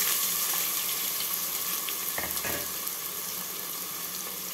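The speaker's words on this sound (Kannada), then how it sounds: "ಇದನ್ನು ಚೆನ್ನಾಗಿ ಒಂದ್ಸಲ ಫ್ರೈ ಮಾಡ್ಕೊಳ್ಳೋಣ ಎಣ್ಣೆಯಲ್ಲಿ" Diced vegetables with cumin sizzle in hot oil, a steady frying hiss with a brief clatter near the middle, fairly close and even in level.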